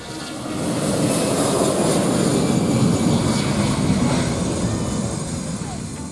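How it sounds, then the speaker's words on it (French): Airplane engine roar at a busy airport swells in and holds steady, a loud jet-like rumble with broad hiss, fading slightly at the end. "Le trafic y est assez dense et le balai des avions reste une attraction locale."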